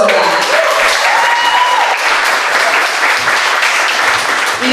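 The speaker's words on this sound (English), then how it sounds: "so everyone give her a round of applause for that" Loud, continuous applause fills a barn venue as a crowd claps steadily from beginning to end, with a few faint voices mixed in under the clapping.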